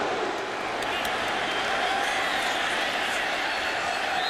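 A sellout stadium crowd at a 2010 Miami Hurricanes vs. Florida State college football game gives off a steady, dense roar of distant cheering and murmur. The level stays even throughout, with no single voice standing out.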